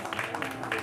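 Applause from roadside spectators greeting runners arriving at the finish of the Maratonina del Partigiano half-marathon in Bonelle, a brief, steady patter of clapping heard at a moderate distance.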